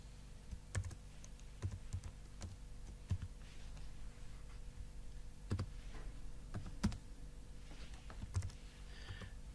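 Keys pressed on a calculator while an expression is entered, giving faint, sparse clicks in uneven groups over a quiet, steady background hiss.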